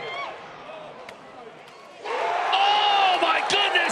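Crowd at Bobby Dodd cheers for a lacrosse play, a quiet murmuring stadium swelling suddenly into loud sustained cheering and whooping halfway through, with whistle-like shouts rising above the roar.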